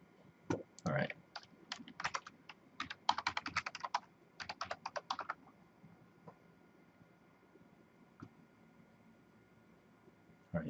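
Password typed on a computer keyboard during a lab session creating user accounts, quick clusters of close key clicks for about five seconds, then sparse single taps in a quiet room.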